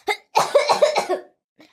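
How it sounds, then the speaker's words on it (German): A single cough, then a rapid fit of several hoarse coughs in a row, close and loud, followed by a faint breath. "Sie ist so schnell gerannt, dass sie heftig husten muss."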